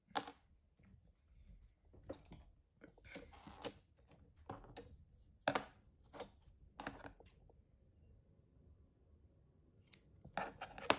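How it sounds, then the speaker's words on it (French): Scissors snip through a craft cord, making several sharp, crisp cuts spaced irregularly across the span, close and fairly quiet with no talking. "je viens ensuite couper ma cordelette"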